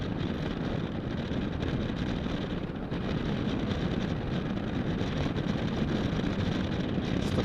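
Exhaust of a 2006 Suzuki V-Strom 650 motorcycle while riding, a loud steady low engine rumble mixed with heavy wind buffeting, continuous with no talk.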